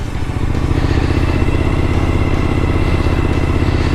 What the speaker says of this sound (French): j'ai un nouveau muffler que j'ai mis, un GPR